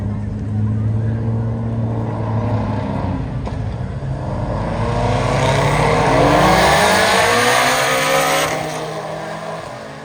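A BMW X3 M SUV's engine drones steadily and loudly, then swells as it revs harder mid-run before easing off, heard close and continuous with no one talking.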